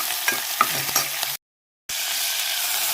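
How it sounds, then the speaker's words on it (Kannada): Cumin, curry leaves and chopped onion frying in oil, a loud close crackling sizzle with quick stirring scrapes, cut by a short gap of silence before the hiss resumes. "ಜೀರಿಗೆ ಕರ್ಬೇವು ಮತ್ತು ಉಳ್ಳಾಗಡ್ಡೆ ಕಟ್ ಮಾಡಿದ್ದು ಹಾಕಿ ಫ್ರೈ ಮಾಡ್ತೇನೆ"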